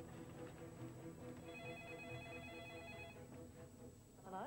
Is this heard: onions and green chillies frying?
no